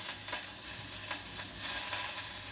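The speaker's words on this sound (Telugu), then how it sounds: "వీటన్నిటిని లైట్గా ఫ్రై చేసుకోవాలి." Onions, green peas, carrot, sweet corn and tomato fry lightly in a pan for vegetable ragi soup, giving a steady close sizzle with a few soft stirring clicks and a brief louder surge near the end, no voices.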